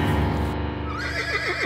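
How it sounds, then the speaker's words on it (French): A thrashing horse gives a loud, wavering whinny that trembles up and down in pitch, heard alone and close with a steady backdrop beneath it. "le fils tombe d'un cheval qui s'agite en tous sens"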